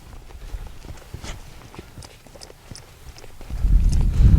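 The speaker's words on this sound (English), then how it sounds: "Let's put him into a trot." A wild mustang under saddle training moves from a walk into a trot, its hooves clopping in a steady rhythm on the ground, moderately close, with louder low rumbling and movement noise building near the end.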